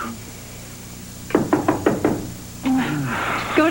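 Five firm, evenly spaced knocks sound on a door in a sitcom scene, followed by a person speaking.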